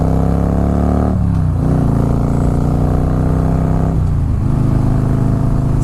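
A Harley-Davidson Fat Boy S motorcycle exhaust rumbles loud and close while riding, a deep throbbing drone that dips briefly twice as the rider shifts, then builds again.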